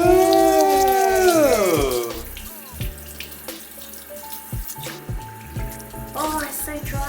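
Tap water runs over a pair of VIVAIA Madeline 2.0 boots, a steady close splashing hiss that fades into scattered drips and trickles, with sharp clicks and brief tonal whines from the sink area.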